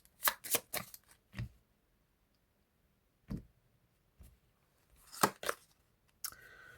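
A deck of tarot cards is cut by hand: quick clusters of crisp snaps and flicks, then a long quiet pause, a few single taps, and another burst of card snaps near the end, all close and soft.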